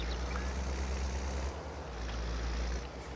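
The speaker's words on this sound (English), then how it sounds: "This tractor is starting to struggle." Tractor engine labouring in Farming Simulator 22, a steady low drone with a dense, rumbling hum, continuous and fairly loud throughout with no talk over it.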